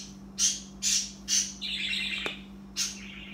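Several birds chirp in the morning outdoors, with four or five bright, clear bursts of calls close by and a brief squawk in the middle, heard alone over a steady low hum.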